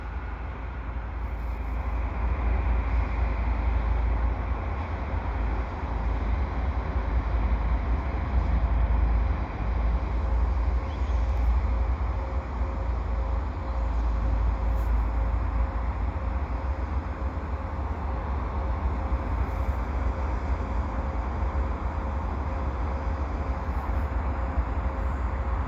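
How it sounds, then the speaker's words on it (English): A CP westbound intermodal stack train rolls past beneath highway ramps in winter, a loud, continuous low rumble of wheels and cars that holds steady throughout with no voices. "we got a stack train headed west underneath the Dorval ramps."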